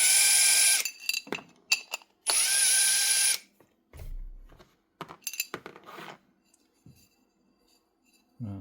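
Power drill spinning out screws from an old Hiretech HT8-1 floor drum sander, with two long loud whirring bursts followed by softer short drill blips, ratchet clicks and metallic clinks.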